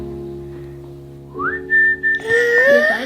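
A person whistles a few clear rising notes near hatching emu eggs, close by, starting after a moment of low background hum and ending in a sustained high tone.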